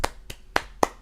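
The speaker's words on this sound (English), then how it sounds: "A round of applause for Boruto." Sharp hand claps spaced irregularly, four or five loud slaps in about a second, close and dry with no voices over them, like a short scattered round of applause.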